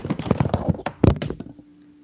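A cat jumps onto a small laptop table, giving a few soft knocks and a heavier thunk, then a brief rattle of objects before it goes quiet.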